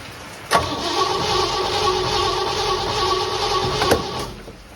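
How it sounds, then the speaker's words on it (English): A 1957 Chevy engine cranks over steadily for several seconds, the starter churning in an even, loud, continuous drone, with a sharp click at the start and another near the end, and no voices. "start turning the engine over"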